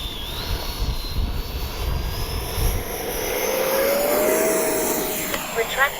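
An E-flite 70mm Viper RC jet, a model ducted-fan jet, flies past at full speed into a headwind with a steady whooshing whine that rises as it draws near, while a person talks over it.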